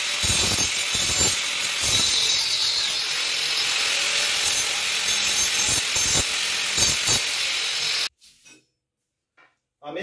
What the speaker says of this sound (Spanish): lo voy a emparejar con el esmeril.